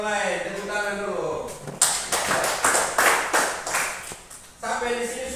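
In a classroom, a group claps hands together in a quick run of about eight sharp, evenly spaced claps, with a voice speaking just before and again right after.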